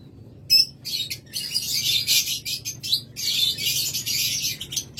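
Pet opaline high-mutation birds kept for sale chirp and tweet in rapid, dense bursts, a busy close chorus of shrill calls with occasional squawks and short gaps, and no talking.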